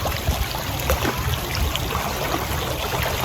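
Waterfall water in Zambales pouring and splashing continuously, close and fairly loud, with a broad rushing hiss and scattered low splashes and bubbling.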